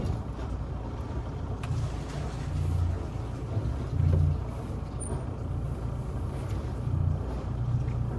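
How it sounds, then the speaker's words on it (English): A boat's engine runs steadily during a pre-sea check, giving a continuous close low rumble with slight surges and no talking. "This is just to make sure that the engine sounds normal and there's water coming out the exhaust."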